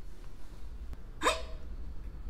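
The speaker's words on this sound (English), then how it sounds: "Did that get rid of the hiccups?" A single sharp hiccup from a children's story reading about hiccups, standing out clearly over a quiet background with no talking.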